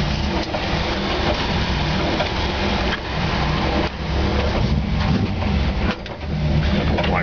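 A 1960 Ford F-350 with a 292 Y-block V8, headers and a four-barrel carburetor with stacks, running loud and close in a steady rough rumble throughout.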